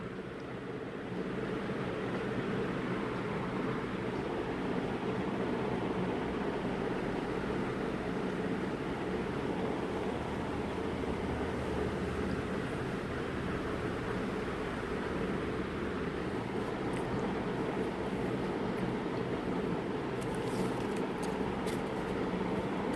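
A train pulls to a halt at a rural railway station in a horror radio drama: a steady, loud, broadband rumble fills the whole stretch, with faint high squeals flickering in near the end.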